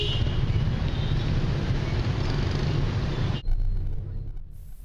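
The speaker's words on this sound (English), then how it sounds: "We took a taxi from the airport through busy streets, jostling traffic, scooters, noise and bright lights." Dense, steady traffic roar on a busy Vietnamese city street with scooters, loud and close, broken by a sudden cut partway through.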